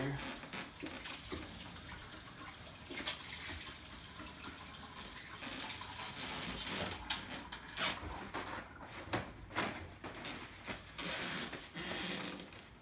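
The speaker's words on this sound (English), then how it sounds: "I'll wash my hands here." Hands being washed under a running tap in a kitchen while preparing a pot roast, a steady quiet gush of water broken up by splashing as the hands move through the stream, close by and with no speech.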